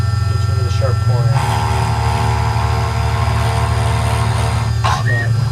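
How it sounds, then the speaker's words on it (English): A Dremel rotary tool trims burrs from a machined edge, giving a steady high-pitched whine over a low motor drone, with brief grinding bursts as the bit touches the metal. "That's a Dremel tool, by the way."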